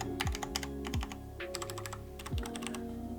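Typing on a Cherry MX mechanical keyboard, sharp clacky keystrokes in quick bursts and clusters, close and clear, with deeper thocks of larger keys bottoming out between runs.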